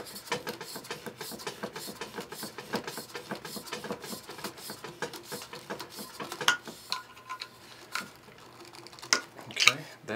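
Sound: hot tub pump impeller being screwed onto the shaft

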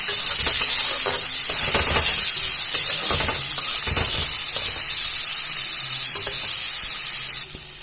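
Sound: potatoes and carrots frying in a pan

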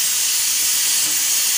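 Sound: pressure cooker steam hissing while cooking dal

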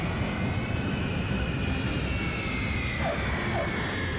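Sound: cartoon airplane landing with landing gear down

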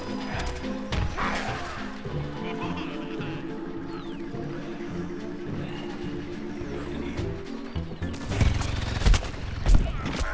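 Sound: rapid fire weapon shooting in video game Plants vs. Zombies Garden Warfare

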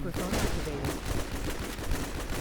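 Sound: gunfire from the WarZ video game

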